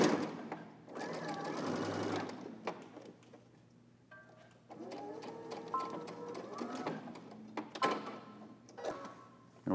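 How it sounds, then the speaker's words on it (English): A home sewing machine runs in several bursts while stitching a pleat for a Simplicity men's pattern, backstitching at the start and end of the seam, with short pauses and a voice talking between the runs. "We're just going to sew with a backstitch at the beginning and also at the end."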